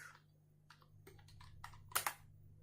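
Switch configuration commands typed on a computer keyboard, a quiet, close run of scattered keystrokes that speeds up into a brisk burst with a couple of louder clacks near the end.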